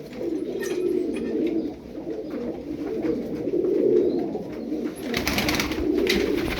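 Tumbler pigeons coo softly and repeatedly in a low, throaty rhythm, close by, with faint chirps and some rustling noise toward the end.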